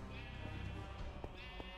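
Sheep bleat in a Minecraft game, two drawn-out bleats near the start and middle heard close and alone over a steady background hum, with no talking.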